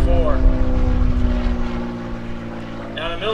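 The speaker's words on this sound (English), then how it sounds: "Here's one of the Lima Lima aircraft, and it'll be followed by another Lima Lima aircraft." A Beechcraft T-34 Mentor propeller trainer drones past at an airshow at Greenwood Lake, its engine hum steady and fairly loud under an announcer's voice.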